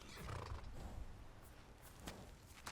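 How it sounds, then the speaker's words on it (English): A horse in the video game Skyrim whinnies and snorts, with soft hoof clip-clops on the ground, faint and close against quiet ambience. "Hello, horse."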